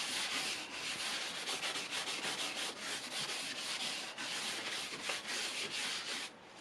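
Paintbrush lightly scrubbing paint onto canvas during a still-life study, a continuous close, dry, rasping rub with a gentle back-and-forth pulse and no talking.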